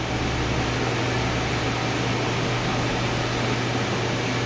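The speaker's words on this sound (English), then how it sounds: "Machine's almost done vacuuming." An A/C vacuum machine pulling down the air conditioning system of a 2005 Chevrolet Silverado with a 6.0 LQ9 engine, a steady, loud mechanical hum and hiss that runs unchanged throughout.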